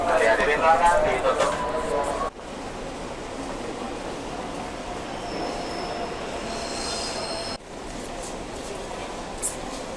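Train cars rumble along the rails with a steady roar and faint squealing wheels, heard from inside the carriage, with voices near the start.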